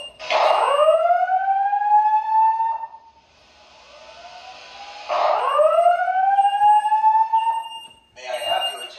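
A garage fire alarm system sounds a carbon monoxide evacuation alarm, two loud rising electronic whoops separated by a pause, followed by a recorded voice announcement.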